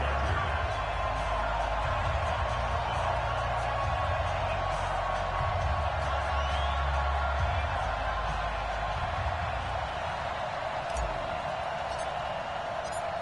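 Stadium crowd noise in an American football video game with the Denver Broncos hosting, a steady, distant roar of a large crowd that holds constant throughout.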